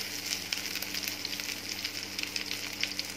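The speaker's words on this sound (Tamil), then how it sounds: "மாங்காவும் இது கூட நல்லா ஆட் பண்ணி இப்போ நல்லா வதங்கணும்" Raw mango sautéing in a pan with cumin, green and dried chillies, curry leaves and ginger, a steady close sizzle with fine crackling pops throughout and no talk.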